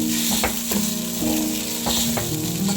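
Soaked sago hits a hot pan for tempering, giving a loud, steady sizzle with intermittent sputtering bursts and light stirring clinks close by, with no talking.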